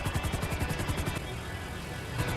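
A steady helicopter rotor thumps rapidly under a continuous engine whine, loud and constant throughout, from a helicopter in the video game GTA 5.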